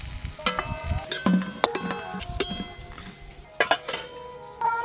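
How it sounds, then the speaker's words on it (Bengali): Fish roe fritters sizzle in hot oil in a pan, with a steady frying hiss broken by sharp clinks and scrapes of a metal spatula turning them, close and fairly loud. "উল্টে পাল্টে ভালো করে ভেজে নেব।"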